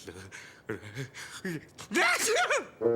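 Short breathy vocal sounds build up, then a loud cartoon sneeze bursts out near the end, close and sharp.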